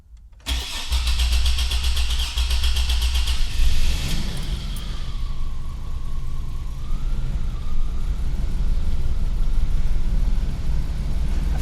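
A freshly rebuilt car engine, dry and unfuelled, cranks for several seconds before catching. It then settles into a loud, steady idle close by.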